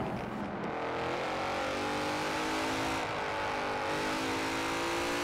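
A sporty four-door GT car revs continuously in Forza Horizon 4, a loud, steady engine drone with rising harmonics and a brief dip and recovery, heard alone without talk.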